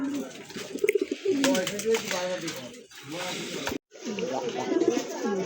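Fantail pigeons coo in soft, rolling bursts close by at a pigeon farm, the throaty calls repeating over a few seconds under a voice, with a brief dropout near the end.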